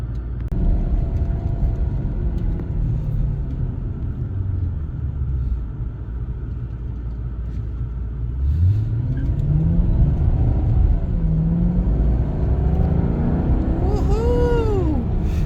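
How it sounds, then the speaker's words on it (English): A 2013 Maserati Quattroporte engine pulls hard during spirited driving, a loud steady rumble throughout that rises in pitch with several upshift sweeps toward the end, heard from inside the car. "Spirited driving in a Maserati Quattroporte."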